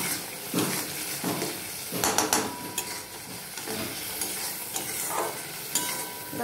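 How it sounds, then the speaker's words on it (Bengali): Spice masala for ghugni stir-fries in oil in a pan, a close steady sizzle broken by scraping and clanking strokes of a spatula against the metal. "এবার দিয়ে ভালো করে কষিয়ে নেব"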